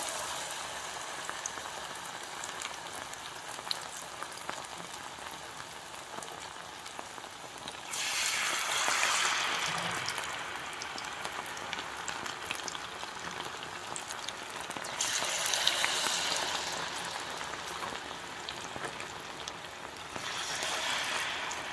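Spoonfuls of plantain banana fritter batter drop into hot oil and deep fry with a bubbling, rain-like crackle, swelling into louder surges as each scoop goes in, then settling to a steady simmer. No one speaks.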